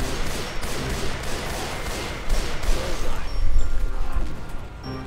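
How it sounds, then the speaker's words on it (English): Explosions and gunfire in the video game Left 4 Dead 2 crackle and boom in a dense, continuous barrage, loud and close, swelling toward the middle before easing off. "Oh my goodness, these explosions are going absolutely crazy."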